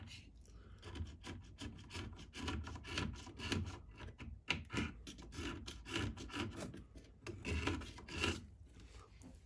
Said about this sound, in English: like a scraper. To scrape away the solder.